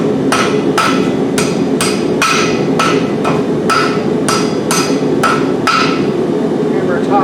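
Steel hammer blows ring out on hot steel bent over an anvil edge while forging a campfire tripod, about a dozen sharp, evenly paced strikes, close and loud over a steady background roar.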